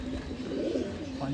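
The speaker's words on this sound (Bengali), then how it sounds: "এটা নর পায়রা" A male Madrasi pigeon in a loft gives low, steady cooing set against a dense background of loft noise.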